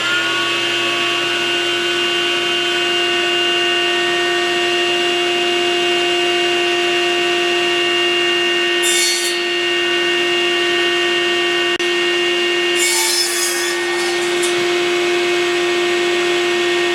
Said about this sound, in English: So I'll turn the 10-inch saw around to crosscut, mark these tables, these secondary tables here,